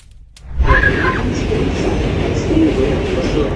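A New Jersey subway train rumbles steadily along, a continuous low roar that swells in after a brief quiet start, with a voice briefly laughing over it near the beginning.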